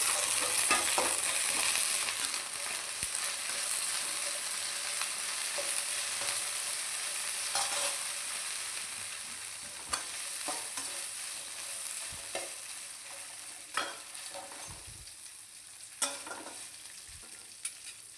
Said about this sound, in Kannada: ಮೆಣಸನ್ನು ಹಾಕಿ ಇದನ್ನು ಈಗ ಸ್ವಲ್ಪ ಫ್ರೈ ಮಾಡುವ